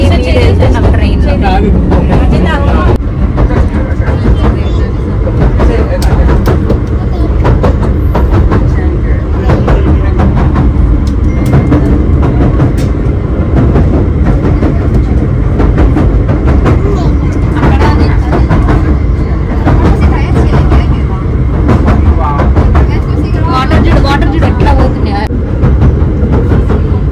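A train rolls along Southend Pier with a loud, steady rumble and rattling, heard continuously from on board with faint voices underneath.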